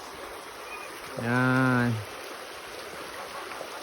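Steady rushing water of a waterfall fills the whole clip, and a person speaks briefly partway through.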